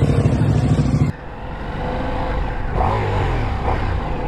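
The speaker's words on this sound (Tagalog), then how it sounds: "So ito yung power ng Ducati Javel. 1000cc plus." A Ducati Diavel 1000cc motorcycle engine roars loudly at first, then drops to a steadier, quieter running drone that rises again slightly toward the end, heard close with no talk.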